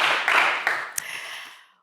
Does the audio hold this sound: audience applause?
yes